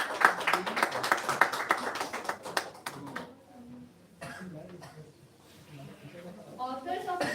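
Applause from an audience at an international academic conference, brisk and fairly close for about three seconds, then thinning to a few scattered claps and a cough before voices murmur in the room.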